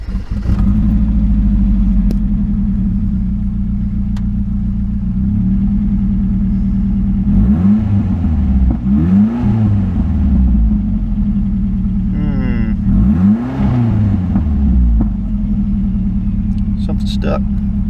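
A turbocharged Nissan S13 convertible with a broken old turbo, its engine idling steadily and then revving in two bursts of rising and falling pitch, loud and close, with a person talking over it.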